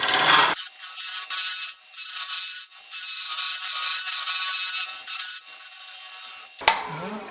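A new hollowing tool with a negative-rake cutter grinds into a gnarly wooden burl on a lathe, a steady, loud scraping chatter with vibration that runs continuously for several seconds and then cuts off abruptly.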